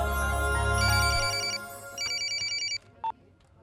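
A mobile phone ringtone plays as repeated electronic chirping bursts in two groups, clear and fairly loud over a low hum, followed by a short beep. Nobody speaks.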